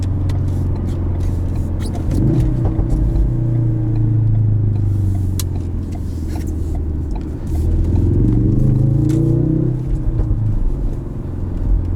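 A 2016 Ford Focus RS driven hard through corners, its engine rumbling loud and close from inside the cabin, revving up and easing off in repeated surges with faint clatter and rustle.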